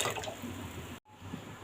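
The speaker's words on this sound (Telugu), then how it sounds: "ఆ బాండీలో కొద్దిగా నీళ్ళు పోసుకోవాలి" Water poured into a wok-style pan while making rasmalai, a steady close splashing pour that cuts off abruptly, then resumes more softly.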